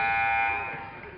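An end-of-quarter buzzer sounds at a girls varsity high school basketball game between Greeley West and Mead: one loud, steady, harmonic electronic blast lasting just over a second, fading slightly at the end over gym noise.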